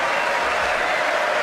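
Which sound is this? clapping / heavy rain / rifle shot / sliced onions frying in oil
clapping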